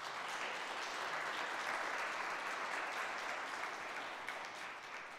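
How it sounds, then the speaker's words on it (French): A church congregation applauds together in a sustained, even burst of clapping that fills the space at a steady level and tapers only slightly at the close. "Peut-être qu'on peut applaudir, il va nous entendre."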